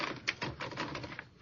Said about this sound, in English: Take over this typewriter, and I'll dictate some paragraphs.